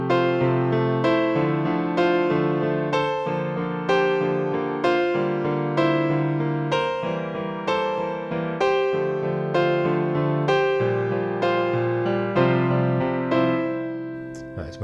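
Piano plays the main riff of a song, a full, sustained pattern of repeated chords and arpeggiated notes in a steady pulse, loud and close, fading near the end.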